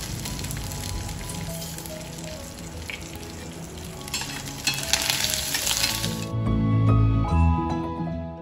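Chili, peanuts and a pinch of asafoetida stir-fry in hot oil, a steady loud sizzle with scraping stirs; near the end the crackle drops away, leaving lower clatter and handling noise.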